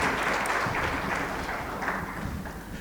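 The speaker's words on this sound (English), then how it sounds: "Ladies and gentlemen, another round of applause, please." Audience applause at an aviation stakeholders convention after a panel discussion: steady, dense clapping from a large crowd that holds at an even level throughout, with no voices over it.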